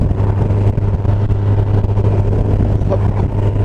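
A Yamaha FJR 1300 motorcycle cruising on roads around Saint-Émilion, its steady engine drone and rushing wind filling the sound continuously and loudly, with no gear changes or pauses.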